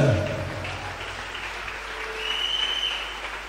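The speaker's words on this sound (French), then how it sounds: "God bless you for clapping." A church congregation clapping during a worship service, a steady, fairly loud wash of applause from a crowd that holds for the whole stretch, with a brief voice at the start.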